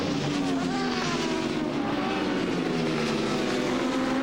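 Racing motorcycles from the 2004 World Superbike race at Phillip Island, two Kawasaki bikes locked together in a slipstream duel, produce a loud, sustained high-revving engine whine that holds steady throughout.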